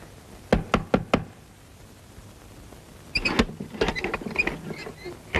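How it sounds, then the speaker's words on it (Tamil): Someone knocks on a back door at night: three sharp, close raps, a pause, then a longer flurry of knocking mixed with rattling of the door. "யாரு இந்த நேரத்தில் கொல்லப்புற கதவு தட்டுறது?"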